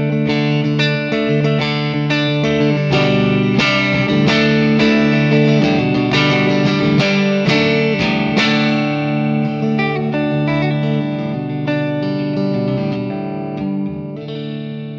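A Duesenberg Starplayer electric guitar played on its neck pickup with tones flat through a 30-watt amplifier, ringing chords and melodic notes with a lush effected shimmer, loud and sustained, fading slightly toward the end.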